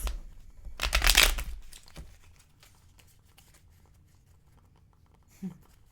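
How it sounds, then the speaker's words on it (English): A quick burst of tarot cards being riffle-shuffled up close, followed by quieter handling sounds and a soft tap near the end. "That was a good shuffle."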